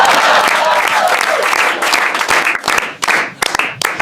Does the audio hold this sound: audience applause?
yes